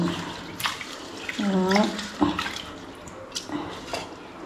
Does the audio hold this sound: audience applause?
no